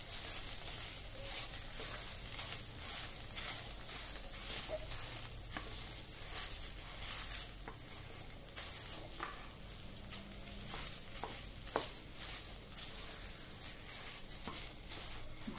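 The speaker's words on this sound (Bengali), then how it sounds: "ছানা আর ক্ষীর একসাথে মিশিয়ে নেব" Chhena and kheer are mixed in a pan over a very low flame for patali gur sondesh, giving a faint, steady sizzle with soft, intermittent stirring scrapes.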